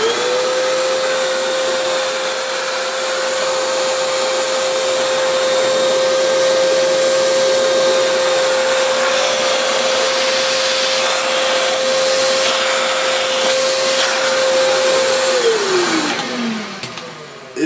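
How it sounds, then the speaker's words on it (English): An Oreck XL handheld vacuum cleaner runs loud and steady with its turbo tool attached, a constant motor whine holding for about fifteen seconds before it spins down near the end, with no talking. "Now we best check the turbo tool works"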